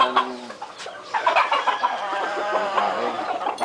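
Hens cluck in a loose, busy chorus, several birds close by making short, repeated clucks and a few louder calls.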